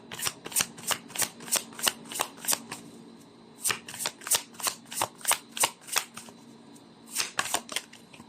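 Tarot cards are shuffled by hand in quick bursts of crisp riffling flutters, a run of rapid strokes, a short pause, then another run, close and clear with no talk.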